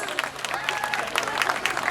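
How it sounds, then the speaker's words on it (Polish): Applause from an outdoor crowd at a harvest festival concert in the rain, a short burst of scattered clapping with a voice talking over it. "Wielkie brawa"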